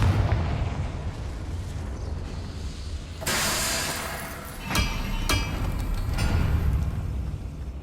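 A Confringo fire spell going off in the video game Hogwarts Legacy, with sharp bursting explosions and crackling blasts over a low rumbling game soundscape.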